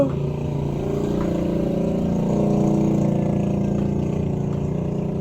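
Motorcycle engine heard from inside a shop, a steady mid-pitched engine drone that swells slightly as it passes nearby, continuous with no talk.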